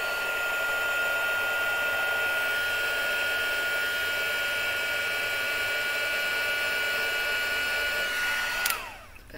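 Heat tool blowing steadily to melt gold embossing powder on card stock, a close, constant whooshing hum that runs without a break and cuts off near the end.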